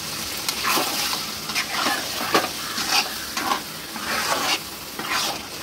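Chicken curry being stirred in a pan just after tomato paste goes in, a steady close sizzle broken by repeated scraping strokes of the spoon, with no talking.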